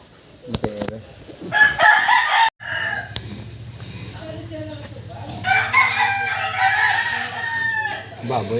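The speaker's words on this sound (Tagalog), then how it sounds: "Baboy at manok ang maingay dito." Roosters crow and chickens cluck nearby in a noisy rural yard, several calls in succession over a low steady hum, with brief speech in between.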